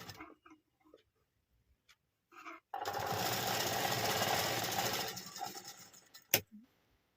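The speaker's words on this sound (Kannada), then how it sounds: "ಇದಕ್ಕೆ ಸ್ಟಿಚ್ ಮಾಡ್ಕೊತಾ ಇದ್ದೀನಿ." A sewing machine runs in one steady burst of fast stitching through dress fabric for about two and a half seconds, close and loud, after quiet handling noises and ending with a sharp click.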